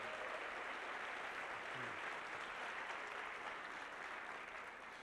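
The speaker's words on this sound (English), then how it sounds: "Give him a round of applause" Audience applause at a motivational speaking convention, a broad wash of many hands clapping at once, steady and quiet as if heard from across a large hall, easing slightly at the close.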